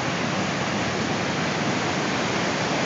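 Water from the overflowing Pathfinder dam rushes in a loud, continuous, dense roar, steady and unbroken throughout.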